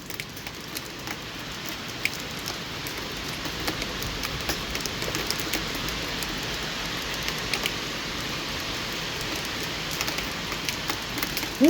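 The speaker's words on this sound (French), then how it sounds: "Il y a des énormes grêlons!" Large hailstones pelt down during a tornado storm in Mios, Gironde, making a dense, continuous patter of hard impacts. Sharper individual knocks stand out now and then, and no one speaks.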